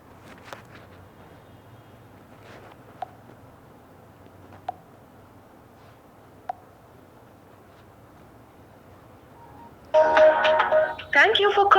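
A phone call placed during an interview: a few faint clicks and taps over quiet room tone, then a loud electronic tone burst near the end as the line connects and rings.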